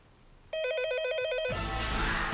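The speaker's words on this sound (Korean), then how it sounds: "그때 전화벨이 울렸다" An old telephone bell trills rapidly with a bright, continuous ring after a brief quiet moment, then gives way to a louder burst of noise in a radio drama scene.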